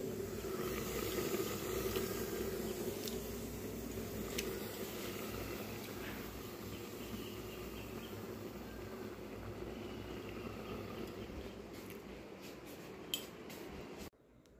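Biuli dal of black gram lentils bubbles in a pot, a steady low burble with soft squishy pops continuing evenly until it cuts off near the end.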